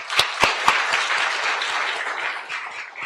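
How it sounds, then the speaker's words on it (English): Audience applause at a national food-and-medicine summit, opening with three sharp, close claps before a broad, steady round of many hands takes over and gradually thins toward the end. "please give her another round of applause"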